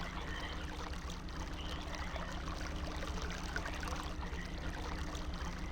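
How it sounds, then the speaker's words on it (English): Water pumped in by a windmill in the realMyst video game, a steady watery rush and trickle with a constant low mechanical drone underneath, continuous and moderately loud with no talking. "this is pumping water in, based on the windmill"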